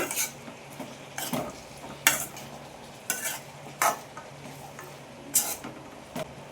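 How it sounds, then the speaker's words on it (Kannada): Ridge gourd frying in oil in a pan for a gravy, with a steady low sizzle under repeated sharp scrapes and clanks of a spoon stirring against the pan. "ಆಮೇಲೆ ಹೀರೆಕಾಯಿನೂ ಸ್ವಲ್ಪ ಎಣ್ಣೆಲಿ ಫ್ರೈ ಆಗಲಿ."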